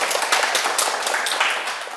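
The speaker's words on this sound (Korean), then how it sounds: "큰 박수 한번 부탁드립니다" Audience applause at a lecture, a dense and fairly loud burst of many hands clapping that holds steady for a couple of seconds.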